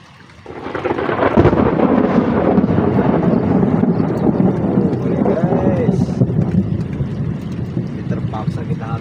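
Rain starts falling on a raft used for fishing, a dense steady hiss of drops with rumbling thunder and wind buffeting the microphone, loud and continuous after a quieter opening.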